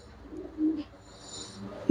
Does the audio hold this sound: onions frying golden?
no